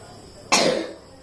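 One short, sharp cough from a person bursts out and fades quickly against a quiet indoor background.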